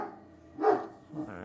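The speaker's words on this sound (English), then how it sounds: "Where are you barking at?" A dog barks indoors, a single clear bark fairly near and moderately loud, followed by a shorter yip after a brief pause, with faint background noise around it.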